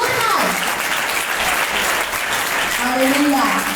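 Congregation at a children's revival meeting in Nakodar, Punjab clapping together, loud continuous applause filling the hall with some voices mixed in.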